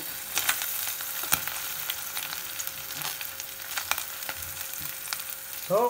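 Cut okra pieces frying in hot oil in a pan, a steady soft sizzle with crackles and pops throughout, heard alone with a brief clatter at the end.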